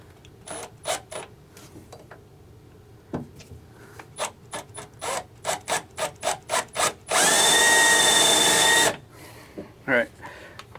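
Power drill boring marked holes for a Bosch M5 Clubsport install on a C5 Corvette, a series of short, close drill bursts followed by one longer sustained whine, with handling clatter between bursts.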